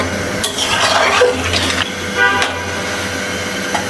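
Water poured into a cooking pot of pumpkin curry in a village kitchen, a steady, close rushing splash with faint clinks of the pot throughout.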